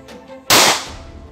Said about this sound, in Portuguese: Então vamos começar atirando com a ETOG.